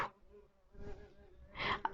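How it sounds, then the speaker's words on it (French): A small bumblebee that has flown indoors buzzes faintly, with the drone rising and falling over a couple of seconds and a louder burst near the end. "ça bourdonne parce il y a un petit bourdon, je pense, qui est rentré là"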